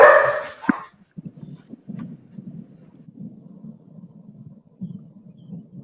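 Dogs bark during catfishing on the Ohio River: a loud burst of barks at the start, then a faint, low, muffled rumble of softer barks continues in the background.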